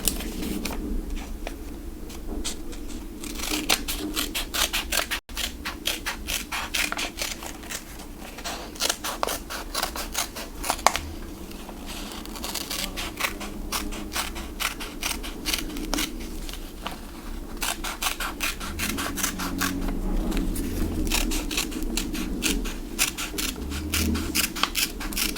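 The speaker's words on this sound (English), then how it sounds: "So now we're gonna cut that out." Scissors snip through paper while a shape is cut out for a paper chain snake craft, with many quick close crisp cuts in irregular bursts that continue throughout, no talking.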